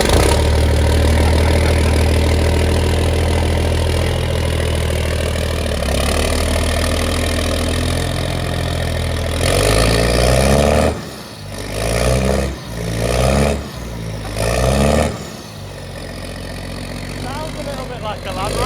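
A big tractor with a side exhaust idles loudly, its engine note shifting and dipping in bursts as it revs, with people talking nearby.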